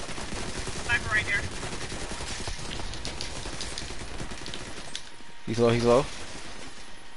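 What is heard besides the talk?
P90 submachine gun fire in video game The Division 2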